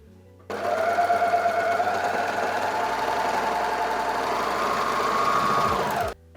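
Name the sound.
overlocker sewing lining waistband edges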